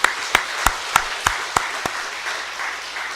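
A church congregation claps to welcome new members, starting with a series of sharp, evenly spaced individual claps. These give way to a softer, denser ripple of applause that fades out.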